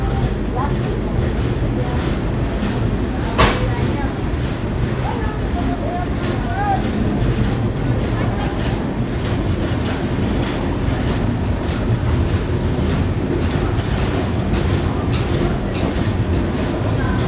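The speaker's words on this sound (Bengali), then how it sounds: "20-22 মিনিট লেটে ট্রেন গোয়ালিয়র স্টেশন ঢুকছে।" Riding aboard the Chambal Express as it pulls into Gwalior station: a loud, continuous rumble and rhythmic clickety-clack of wagons on the rails, with a sharp metallic clank early on and people talking in the background.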